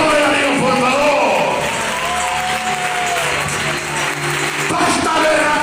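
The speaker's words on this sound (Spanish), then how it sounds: "Aplaude a Dios, por favor." A church congregation applauds loudly and steadily, dense clapping with some cheering that swells and continues for several seconds, with voices mixed in.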